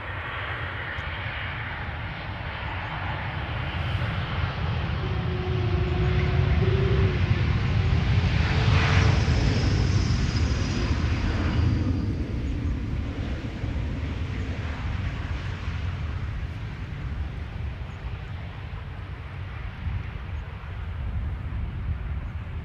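An Austrian airliner arriving from Vienna at Amsterdam Schiphol Airport, a jet engine roar that swells and peaks midway as it passes, then fades to a steady distant rumble.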